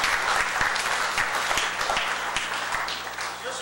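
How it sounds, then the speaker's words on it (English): Steady audience applause, dense and full, fills the space for several seconds at moderate distance and fades slightly toward the end. "let's give them a round of applause."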